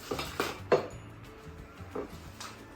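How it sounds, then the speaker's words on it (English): Lettuce is cut into chunks on a plate, giving a few quiet knife taps and clinks against the plate, spaced irregularly and close by. "lettuce, you want to just cut it up into good chunks, not too small, not too big"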